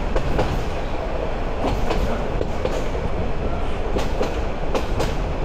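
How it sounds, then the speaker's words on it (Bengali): A Chattogram University shuttle train runs along its tracks with a loud, steady rumble and a faint clickety-clack, with the car shaking and rattling close around the listener. "হালকা কাঁপিয়ে যাচ্ছে ট্রেন"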